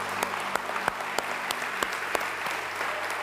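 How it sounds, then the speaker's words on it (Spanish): Congregation applause in a church service, a dense steady roar of many clapping hands with a few louder claps standing out, continuous throughout. "Le damos un fuerte aplauso al Señor."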